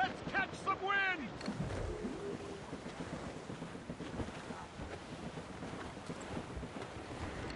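Wind rushes steadily around a sailing ship's sails in Assassin's Creed Rogue, a continuous broad gusting wash with sea and hull noise, with a voice heard briefly at the start.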